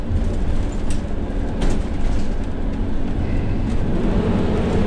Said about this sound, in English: Whoa, boy, that passing gear kicks in.